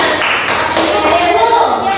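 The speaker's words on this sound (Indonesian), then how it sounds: "tepuk tangan dulu buat temennya" Elementary school pupils in a social studies class clap for a classmate, a steady continuous patter of many hands with children's voices mixed in throughout.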